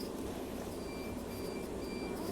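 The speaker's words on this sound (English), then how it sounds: "And now waiting, and now we can hear the beeping" A Ubike bike-share dock gives a series of evenly spaced short electronic beeps that repeat over a constant background hum of outdoor traffic.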